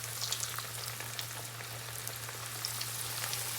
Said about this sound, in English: So one at a time, I'm just gonna add some cutlets into the pan.